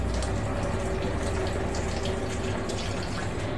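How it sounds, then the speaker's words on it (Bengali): Water runs steadily from a tap while fish are washed, a continuous close splashing rush with no pauses and no talk over it. "আমি এখন মাছগুলোকে ধোবো"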